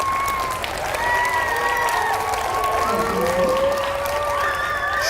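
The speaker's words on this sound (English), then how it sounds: "Give her a big round of applause." A school assembly audience claps and cheers steadily for a guest from the National Air and Space Museum, with continuous dense applause and scattered whoops throughout.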